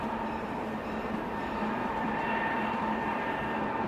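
Steady rumbling of a train rolling along mountain rails, a continuous loud drone with a faint tonal hum running through it, no voices.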